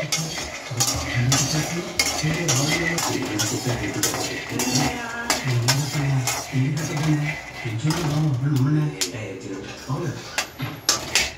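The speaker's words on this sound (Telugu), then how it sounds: "పల్లీలు వేగడానికి అయితే చాలా టైం పడుతుంది" Peanuts roasting in a pan are stirred continuously, the spoon scraping and clinking against the metal in repeated strokes over a light sizzle, while a person talks throughout.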